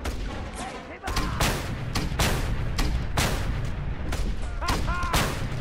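Repeated gunshots crack in the video game Just Cause 2, several loud bursts spaced irregularly over steady booming combat noise.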